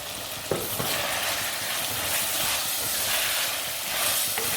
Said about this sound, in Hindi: चिकन भून चुका है, इसमें आलू शामिल कर देते हैं।